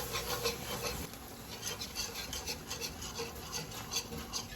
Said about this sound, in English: Now I'm gonna slowly whisk in my milk.